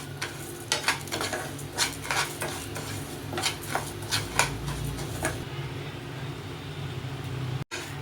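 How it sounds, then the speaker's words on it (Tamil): Basmati rice is dry-roasted in a pan for a payasam, with quick repeated scraping and clinking of the spoon over a faint hiss, stirring for about five seconds before things go quiet. "இப்போ நல்லா அரிசி வறுபட்டு வருது."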